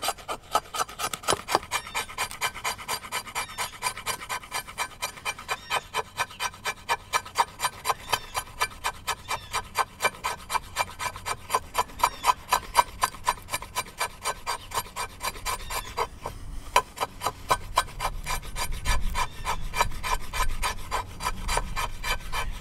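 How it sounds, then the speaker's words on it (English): The spine of a Work Tuff Gear Proper Chopper scrapes wood in steady, rhythmic raspy strokes, two to three per second, close and clear, loosening near the end. "So now for the spine, let's see if we can do some scraping here, get a little bit of fuzz."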